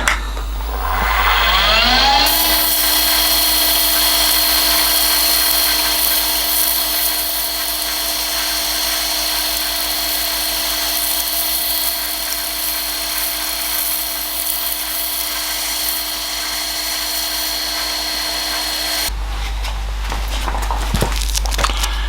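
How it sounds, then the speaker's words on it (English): Pen blank spinning on a wood lathe while 400 grit sandpaper is pressed against it: a motor spins up to a steady high whine with a continuous rasping hiss, holding evenly for about sixteen seconds before cutting off abruptly. "So that's a finish with 180 grit sandpaper. So now we'll try 400."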